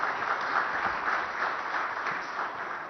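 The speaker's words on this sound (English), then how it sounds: "Can we have a huge round of applause for Mr. Kant as well?" Steady applause from the audience at a business leadership and CEO awards event, a dense, even wash of clapping held for a few seconds with no voices on top.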